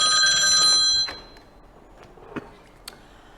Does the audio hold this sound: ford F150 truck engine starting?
no